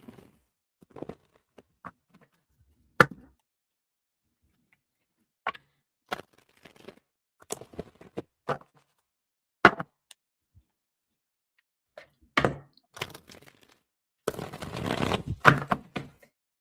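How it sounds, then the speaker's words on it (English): A deck of tarot cards is shuffled by hand in scattered bursts of soft flicks and taps, then a denser riffle near the end, close and quiet, with no talking. "give me a few seconds to get a good shuffle"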